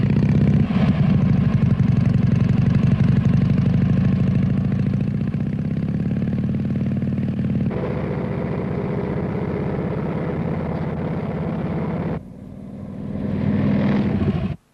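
A motorcycle engine runs steadily at close range for the whole stretch, with a low, continuous hum and a slight change in tone partway through, then a brief dip before it swells again.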